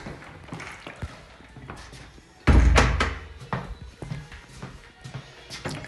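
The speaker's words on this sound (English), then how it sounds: "Let's shut these doors." An apartment door slams shut with one loud, close thump, surrounded by quieter knocks and shuffling steps.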